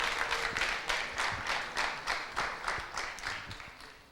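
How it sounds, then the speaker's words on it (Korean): A church congregation at a Sunday worship service breaks into steady applause, a dense run of hand claps with a regular pulse that carries on for about four seconds without speech. "박수 보내겠습니다."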